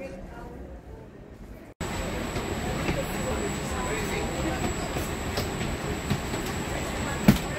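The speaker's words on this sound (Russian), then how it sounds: "Едем на поезде" Inside a passenger train riding from the cruise port at Civitavecchia to Rome Termini, a steady rumbling roar with a high whine and rail clatter continues after a sudden start, with faint passenger chatter and a sharp knock near the end.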